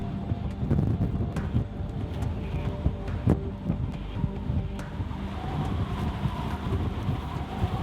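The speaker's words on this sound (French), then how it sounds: "On se décide de finalement profiter de l'orage qui est sur nous." Thunderstorm with rain during storm chasing in Tornado Alley, a steady rumbling wash of rain and wind with occasional sharper cracks and thuds, close and fairly loud.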